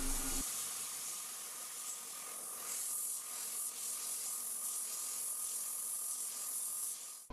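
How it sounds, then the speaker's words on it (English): Airbrush spraying paint onto an RC pilot figure, heard as a soft, steady close hiss of air that runs continuously and fairly quietly. "As we move the airbrush closer to the job, we must move the trigger less to shoot less paint."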